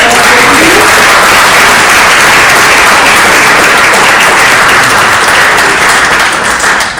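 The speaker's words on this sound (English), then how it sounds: "So give everybody a round of applause" Sustained applause from an audience at the Spirit of the United Nations Awards ceremony, marking the UN's 80th anniversary: dense, loud, even clapping lasting throughout and thinning slightly near the end.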